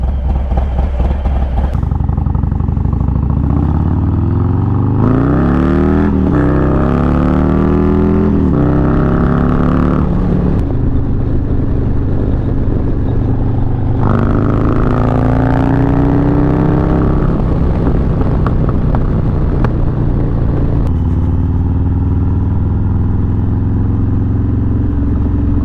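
A 2020 Harley-Davidson Low Rider S cruises on a road near San Antonio, engine droning loud and close with rising revs through gear changes, wind buffeting heavily over the whole ride.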